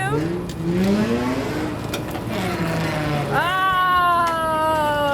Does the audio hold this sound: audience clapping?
no